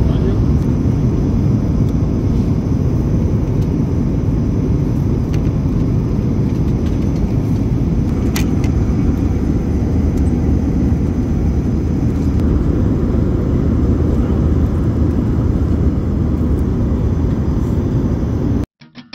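Airplane cabin noise during landing: a steady, loud low roar of engines and airflow fills the cabin throughout, with a brief clatter near the end.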